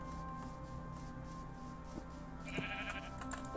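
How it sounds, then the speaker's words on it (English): A Minecraft sheep gives a short bleat, faint against a quiet in-game background of soft tones and ambience, followed by a few small clicks. "Okay, we found sheep."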